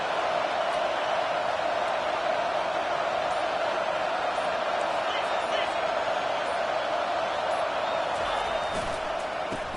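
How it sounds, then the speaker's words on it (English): A football stadium crowd roars to fuel the defense, a loud, steady wall of noise from many voices that holds at the same level the whole time. "The roar of the crowd trying to fuel this defense to keep them pinned in their own end."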